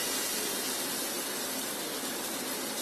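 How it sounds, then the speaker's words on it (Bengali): A spoonful of semolina and sour yogurt batter dropped into hot oil gives a steady, dense sizzle and hiss that stays even and close for the whole stretch, with no talking. "এখন আমি মাঝখানে 1 চামচ ব্যাটার দিয়ে দিচ্ছি।"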